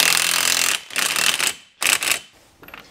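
An impact wrench tightens a brake caliper bolt during a Brembo brake kit install on a V6 Dodge Charger: three loud, close rattling hammering bursts, then a fainter short one.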